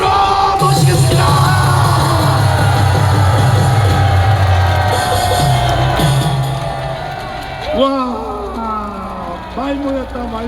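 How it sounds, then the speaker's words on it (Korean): A large rally crowd at the Gwanghwamun election-fraud protest in 2024 gives a standing ovation, loud cheering and whooping swelling over amplified announcer speech, then someone talks over the lingering crowd noise. "한기총 대표장을 지내신 정영훈 목사님을 기립 박수로 모시겠습니다"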